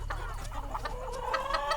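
Chickens cluck in short repeated bursts over a low steady hum, fairly close and moderately loud.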